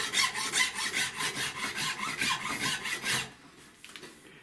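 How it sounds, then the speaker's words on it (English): A rasp files the wooden stock of a snaphaunce musketoon in quick back-and-forth strokes, a dry rhythmic scraping that runs for about three seconds, then stops and leaves a faint quiet tail. "filing the wood in the middle"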